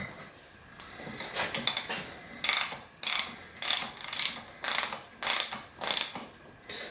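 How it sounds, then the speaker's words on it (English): A fork top cap on a Manitou Magnum bicycle suspension fork is tightened with a ratcheting tool, about ten even, close clicking pulls in a steady rhythm. "Just tighten it down till it stops and don't tighten it any further"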